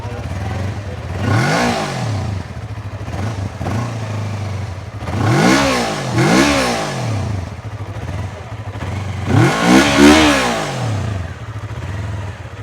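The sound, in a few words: Kove motorcycle engine revving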